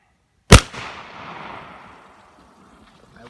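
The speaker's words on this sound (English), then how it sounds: "my dad is going to be attempting to shoot our busted pool with a shotgun" A shotgun blast fired at a busted backyard pool: one loud, sharp report at the start, followed by a diffuse rumbling echo that trails off over a couple of seconds, with no talking.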